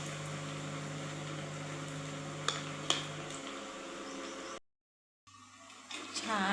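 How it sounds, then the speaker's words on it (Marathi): Shredded cabbage vadas deep frying in hot oil make a continuous close bubbling sizzle with a couple of sharp crackles, then a moment of silence before the frying resumes. "आता वडे तळून घेऊया।"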